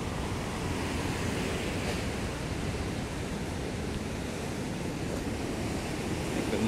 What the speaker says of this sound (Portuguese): Praia de surfista.